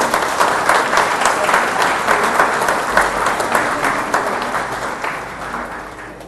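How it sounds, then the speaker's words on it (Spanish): A church congregation applauds steadily in a dense wash of clapping that swells and fades evenly, with no voices standing out. "Dale un aplauso al Señor, por favor."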